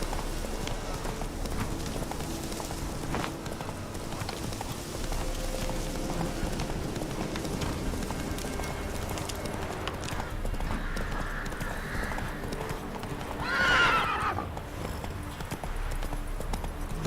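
A horse gallops across Velen in the Witcher 3 video game, its hoofbeats making a steady, fairly faint clip-clop under game ambience, with a brief whinny-like burst near the end.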